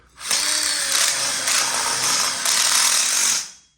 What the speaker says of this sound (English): We're using an impact drill because it pushes as you're screwing, which makes it much easier.